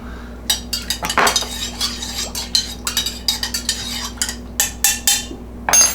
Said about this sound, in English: And then we're going to mix it up.